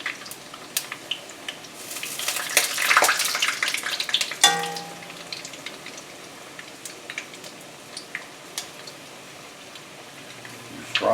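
Tonkatsu pork pieces drop into very hot vegetable oil, with a burst of bubbling sizzle that swells, then settles into a softer, crackling fry with scattered pops.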